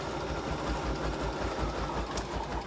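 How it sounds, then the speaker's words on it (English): A Bernina embroidery machine stitches a placement line in isocord thread, its needle running in a fast, even mechanical chatter that stays loud and steady throughout. "So I'm going to go ahead and just stitch out that placement line."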